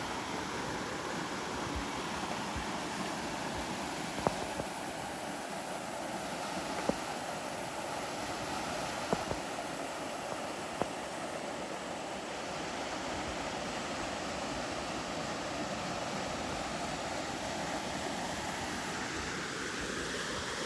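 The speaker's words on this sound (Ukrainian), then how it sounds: "і ось такий потічок" A mountain stream near the Hurkalo waterfall in the forested Skole Beskids rushes in a steady, full broadband roar that holds constant throughout, with a few faint clicks and no talk.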